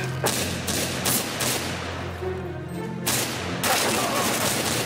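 Bursts of rifle fire in the shooter CS:GO crack out in several loud, close volleys separated by short lulls, with voices faintly present in the mix.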